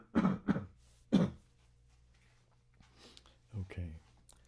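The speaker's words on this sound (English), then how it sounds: "Clear my throat." A man on a live stream clears his throat close to the mic in a few quick, rough bursts, followed by quieter mouth noises and a softer throat sound after a pause.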